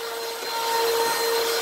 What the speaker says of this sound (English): And what I'll do is basically just vacuum a little bit, have it going,